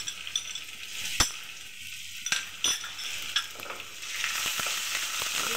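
Chopped onion sizzles in hot oil in a pan with ginger and garlic added, a steady close frying hiss broken by a few sharp clinks and scrapes of a stirring utensil, with no voices.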